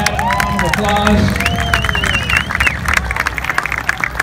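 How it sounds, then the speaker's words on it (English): A crowd at the Boca Raton Fire Expo 2018 applauds and cheers a police motorcycle demonstration rider: loud, dense clapping mixed with whoops, whistles and crowd babble. "everybody give Adam a round of applause"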